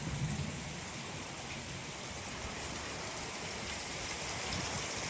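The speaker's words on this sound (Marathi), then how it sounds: "हे बघा पणलीचं पाणी किती पडतंय ते बघा" Heavy unseasonal rain in Konkan pours down steadily, with water running off a house roof; a loud, continuous, dense rush with no break and no voices.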